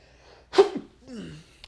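A single close, sharp sneeze erupts with a quick intake of breath before it, followed by a soft voiced sigh or groan.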